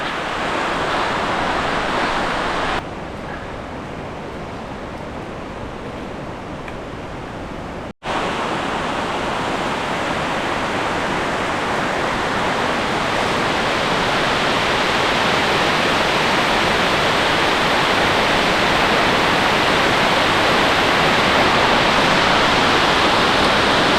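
Two large waterfalls in the Malham area of the Yorkshire Dales roar in heavy flow, a loud, dense, steady rush of water that fills the scene, with an abrupt cut partway through and wind buffeting the microphone.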